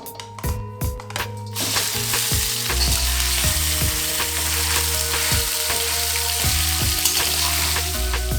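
Minced meat sizzles loudly in a hot pan of oil, with scattered metallic clinks and scraping from stirring throughout, while cooking dum keema.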